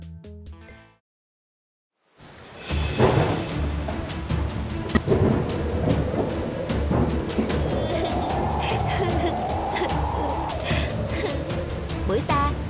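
Cartoon storm of thunder and heavy rain with wind, starting after a second of silence, then a loud sustained roar with crackling rain and a rising howl of wind, thunder rumbling beneath.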